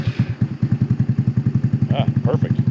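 A GY6 150cc scooter engine with a newly replaced starter clutch, fitted in a Ruckus-style bike, chugs into a fast, steady putter close by, with brief voices over it near the end.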